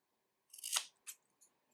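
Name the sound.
scissors cutting macramé cord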